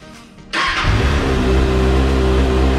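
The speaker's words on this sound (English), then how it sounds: "We're gonna fire up this motorcycle" A Kawasaki Ninja ZX6R sport motorcycle engine fires up after a quiet half second, then settles into a loud, steady, close-up idle with a slight rev.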